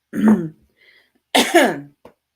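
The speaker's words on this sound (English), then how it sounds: "let me clear my throat" Someone clears their throat twice, close and loud, with a brief quiet gap between the two rasping bursts.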